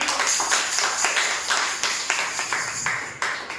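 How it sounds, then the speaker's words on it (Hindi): A church congregation applauding during a Sunday praise and worship service, heard as steady, fairly loud clapping with rhythmic bursts throughout and faint voices underneath. "आइए हम जोरदार तालियों पर हमारे परमेश्वर को दें"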